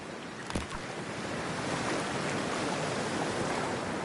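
A Cyberpunk video game character wades into freezing water, giving a brief splash followed by a steady, loud wash of surf and rushing water.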